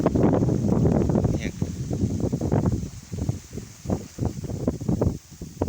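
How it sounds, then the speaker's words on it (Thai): Strong wind gusts buffet the microphone outdoors in a mixed-crop farm plot, a rough, continuous roar with surging bursts that fades slightly toward the end, with no talk heard. "ลมแรงมาก"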